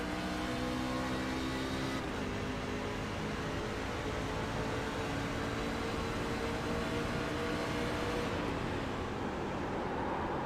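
Race trucks in a video game truck series league race hold a loud, continuous engine drone with steady revving and shifting pitch from several vehicles, heard alone without talk.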